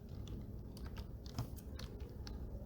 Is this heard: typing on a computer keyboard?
yes